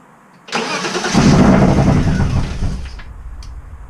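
A BMW E36 engine fitted with individual throttle bodies cranks and catches, then runs loud and rough for a couple of seconds as it struggles to settle into an idle before dropping off.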